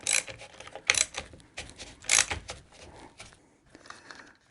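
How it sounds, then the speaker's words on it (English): Oil filter wrench gripping and turning an EGO Rapid Reload trimmer head, giving a close run of irregular scraping, clicking and grinding bursts that fade toward the end. "I'm going to use that oil filter wrench"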